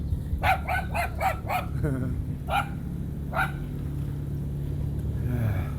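A dog barks in a quick burst of about five barks, then two more single barks after a pause, fairly close, with a low steady hum underneath.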